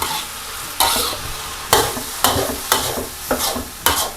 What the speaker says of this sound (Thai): ผัดนะคะให้วุ้นเส้นเข้ากันกับผักชนิดอื่นก่อนค่ะ